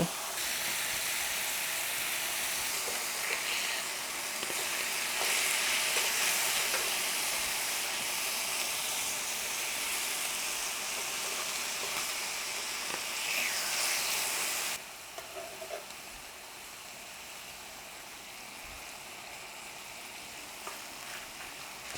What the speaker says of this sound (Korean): 집어가면서 노릇노릇하게 구워주시면 돼요.